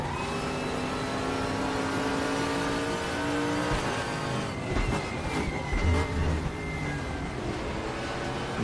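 A Nissan GT-R engine revs hard in a racing sim game, a loud, continuous mechanical drone rising and shifting pitch, with brief bursts midway as the car accelerates and changes gear.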